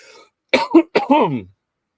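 A short throat clearing followed by a couple of quick coughs, close and distinct, then silence.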